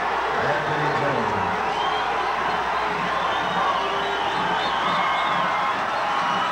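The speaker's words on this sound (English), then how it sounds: "The Bison fans are on their feet." Bison basketball fans cheer steadily in Trojan Fieldhouse during a college game, a loud, constant crowd roar with scattered whoops. A commentator talks over the noise.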